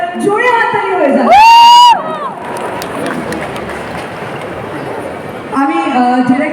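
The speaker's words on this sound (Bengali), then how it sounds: "এবার জোরে হাততালি হয়ে যাবে" An audience at a live event breaks into loud, sustained applause with some cheering for a few seconds, framed by a speaker's amplified voice before and after.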